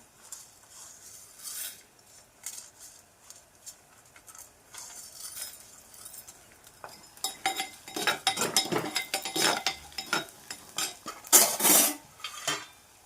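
Whole spices roast dry in a pan over medium gas: bay leaf, red chillies, coriander seeds, cloves, black pepper, cashews, cinnamon, star anise and cardamoms. They rattle and clatter as a spoon stirs them, quiet at first, then louder, busier scraping and clinking.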